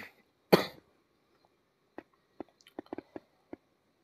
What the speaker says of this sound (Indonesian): Maaf ya kalau saya batuk, soalnya lagi nggak enak badan.